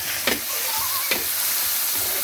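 Tomatoes hit a sizzling pan for salted tilapia and are stirred, giving steady hissing frying with two sharp scraping stir strokes and no talk.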